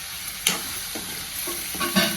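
Vegetables (brinjal and peas) sizzle steadily in oil in a kadai while a spatula scrapes and stirs them in a few distinct strokes.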